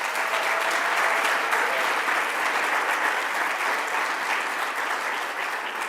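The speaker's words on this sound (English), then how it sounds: "let's give a round of applause to our borough president, Donovan Richards." Sustained applause from an audience at a community political event in a New York City borough, steady and dense throughout with no speech over it.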